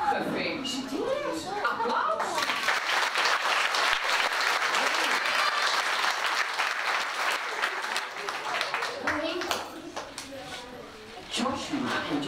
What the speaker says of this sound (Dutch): Nou, gefeliciteerd. Applaus.